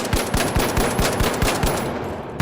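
Rapid automatic gunfire from a video game weapon, a close, loud string of evenly spaced shots in quick succession, about a dozen rounds with no pauses.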